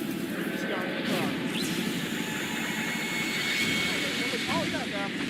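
Animated helicopter in a Skibidi Toilet cartoon episode, a steady rotor and engine drone running throughout at moderate level, mixed with other effects and overlapping talk.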